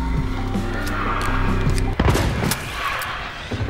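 A single sharp, close gunshot cracks out midway through a Hunt: Showdown match, standing out against a steady rumble of game ambience.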